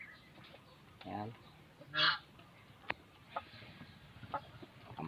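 Turkeys on a backyard farm make brief bursts of fowl-like calls, including one louder gobbling burst, with scattered clucks and faint background noise; someone talks quietly at times.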